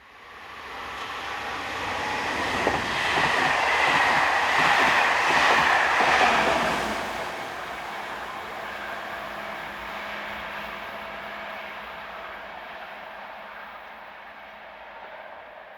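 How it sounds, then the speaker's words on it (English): A freight train hauled by locomotive 26092 rolls north past vineyards on a French railway line, a steady rumbling roar with clattering wagons that swells over the first seven seconds, then eases into a lower, fading rumble. "this freight, powered by 26092, was seen heading north past the adjacent vineyards."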